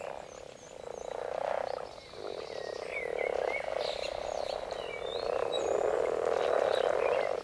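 A chorus of common frogs croaking continuously during mating season, many overlapping low purring calls forming a dense, steady drone with a few higher bird-like chirps above.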